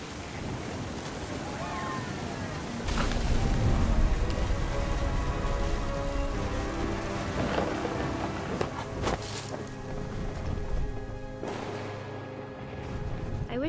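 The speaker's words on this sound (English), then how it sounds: "The thunder sounded much too close and full of angry power." Steady rain and rumbling storm ambience from the video game What Remains of Edith Finch, a continuous wash of rainfall with low swells, carried on at moderate level with no talk over it.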